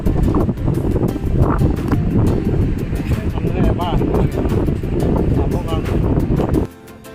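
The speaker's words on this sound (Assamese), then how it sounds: "বতাহটো ইমান আহিছে, মই বতাহ চাউণ্ডটো কমাই থৈছোঁ" Strong sea wind at Baga beach in Goa buffets the microphone in a loud, continuous roar that swamps everything before cutting out abruptly near the end.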